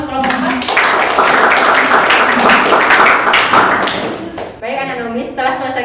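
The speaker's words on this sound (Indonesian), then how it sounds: "Kita kasih tepuk tangan untuk kelompok 4." A classroom of students claps for a group that just presented, a short burst of quick clapping that tapers off while a teacher's voice continues over it.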